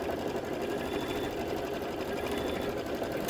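A sewing machine runs steadily while quilting a table topper, a continuous close mechanical whir with fast stitching rhythm and no pauses.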